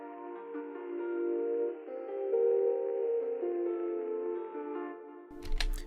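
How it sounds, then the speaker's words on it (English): Soft electric piano chords roll out as gently arpeggiated, strummed notes, sustained and mellow, ending with a brief clicking noise. "I use a lot of strum, basically to the point where it's basically just arpeggiated"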